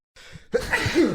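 A single sharp sneeze with a quick inhale before it, close and loud, ending in a short breathy trail.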